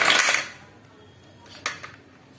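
Freshly chopped tomatoes and vegetables from an electric four-blade cutter tipped onto a plate, a bright clatter of pieces and utensil against dish at first, then a few quieter clinks and taps.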